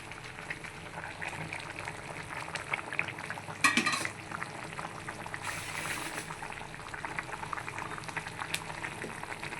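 Okra pieces, already fried in oil, drop into a pot of boiling tamarind curry and get stirred, with a steady bubbling simmer throughout, a brief splashy burst midway and a louder stirring scrape a little later.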